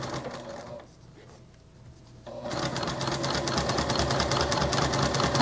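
Sewing machine stitching fabric for a crossbody bag runs in a steady, rapid mechanical chatter, pausing briefly to a quieter hum before resuming louder and continuous to the end, close and alone with no talk.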